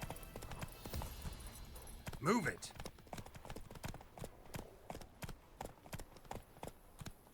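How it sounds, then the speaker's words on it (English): Wild horses' hooves clip-clop steadily in The Witcher 3, a dense run of sharp hoof taps over game ambience, while a person briefly speaks over the action and a short neigh-like call rises in the middle. "Oh, wild horses!"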